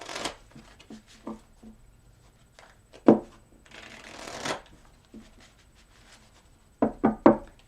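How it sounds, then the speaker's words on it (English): A deck of cards is shuffled several times, with crisp riffling bursts and soft taps and slaps between them, close up. "I'm going to give it 2 more shuffles."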